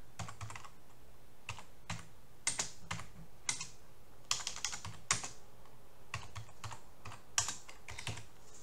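Fingers type a formula on a computer keyboard while working in an Excel spreadsheet, giving an irregular run of quick, close key clicks with small bursts and pauses and no talking.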